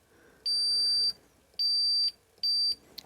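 Multimeter continuity tester beeping across the contacts of a BSA Bantam B175 horn: three steady high-pitched tones, the first longest, broken by short gaps as the circuit connects and disconnects, in a quiet workshop.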